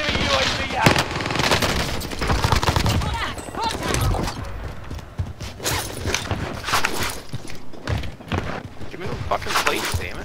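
Rapid bursts of automatic gunfire crackle through a military shooter video game, with sustained volleys and sharp single shots across the whole stretch. Voices call out over the shooting.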